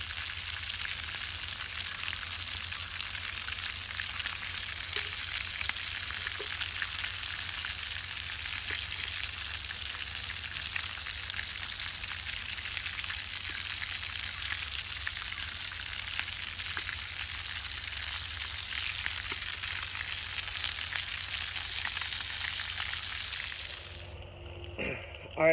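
Chicken and shrimp frying in a pan outdoors, a steady dense crackling sizzle that runs nearly unbroken, then fades out abruptly near the end with a faint clink.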